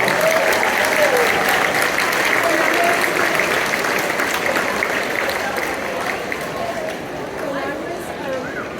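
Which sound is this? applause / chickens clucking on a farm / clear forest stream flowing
applause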